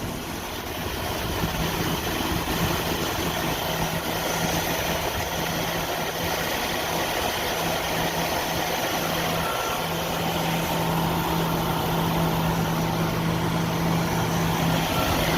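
A 1988 Jeep Wrangler YJ with the 4.2L engine idles steadily for the whole stretch, a close, even mechanical rumble with a constant low hum and no talk over it.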